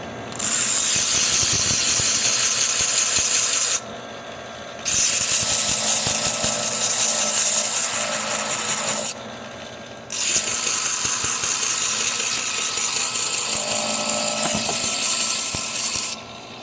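Power sanding of a 1/2 inch twist drill bit: a loud continuous grinding whine in three long bursts separated by brief quieter pauses, with no talking.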